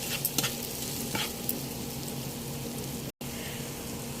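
Shrimp and onion fry quietly in a pan with a soft, continuous sizzle and occasional stirring clinks, heard alone at low level without speech.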